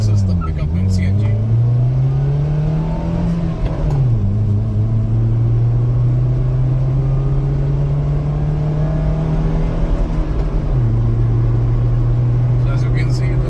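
A car running on CNG accelerates hard from a standstill, its engine drone rising steadily in pitch, dropping at a gear change and climbing again, loud and close inside the cabin.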